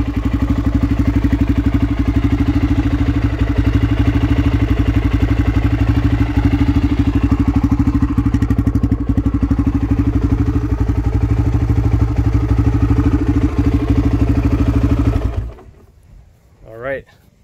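A Honda XR 250R enduro dirt bike warmed up and idling on a hot day, its raw exhaust giving a loud, steady, close throbbing rumble before the engine cuts off and a brief voice follows.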